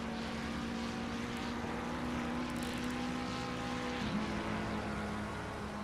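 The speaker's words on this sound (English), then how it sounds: "The helicopter shot now, as we're going up there." A helicopter in the racing game Assetto Corsa Competizione, following GT3 and GT2 cars at Monza, gives a steady, loud droning engine and rotor hum that holds evenly throughout with no talk.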